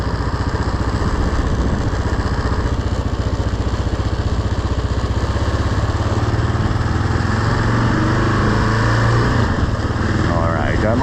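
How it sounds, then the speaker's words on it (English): A motorcycle engine runs steadily at close range on Beach Boulevard in Stanton, putting out a loud, even, throbbing rumble throughout, with wind buffeting and a rider's voice faintly underneath. "I'm on my motorcycle."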